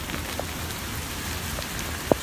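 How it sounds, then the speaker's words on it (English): Heavy rain pours down outdoors in Sundance, a dense, steady hiss of drops on surfaces with a single sharper drip near the end. "It's pouring down right now."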